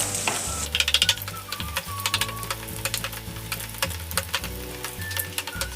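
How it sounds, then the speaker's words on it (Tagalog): Onions sizzle in a pan while a utensil stirs them in quick, repeated scraping strokes, close and fairly loud, with a low steady hum underneath. "So, next ay maglagay tayo ng ating sibuyas. Ayan. Igisa na natin yan."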